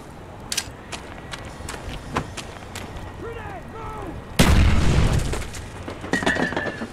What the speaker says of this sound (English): Did you just flashbang yourself?